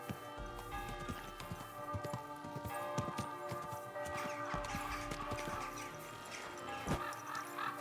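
A horse's hooves clip-clop steadily along in Kingdom Come: Deliverance II, a quick, even rhythm of distinct hoofbeats, with ringing bell tones lingering in the background and no talking.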